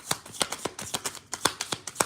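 A tarot deck is shuffled close by in quick, crisp riffles and taps. The bursts come in an uneven rhythm of about a dozen sharp snaps over two seconds, with no talk.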